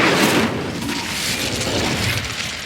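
The Incendio fire spell cast in Hogwarts Legacy bursts out as a loud whooshing blast that fades into a roaring, crackling rumble, heard alone without talking.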